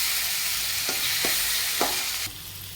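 Masala with spices sizzles and fries steadily in a pan for a banana flower curry, with a few brief spoon stirs scraping through the constant hiss and no talk.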